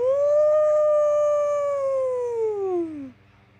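A voice imitates a whale sound with one long, sustained, tonal wail that slowly slides downward in pitch over about three seconds, loud and close, then stops.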